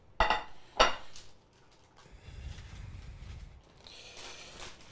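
Ceramic plate set down and handled during plating of a dish, two sharp clinks near the start followed by softer scraping and shuffling in a home kitchen.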